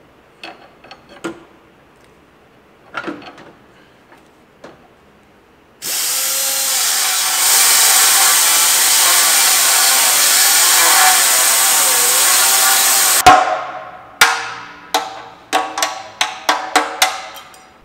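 A power tool cuts a notch in a Honda Integra's body to clear new headers, running as a loud, steady whine for about seven seconds, with scattered knocks and clanks of metal before and after.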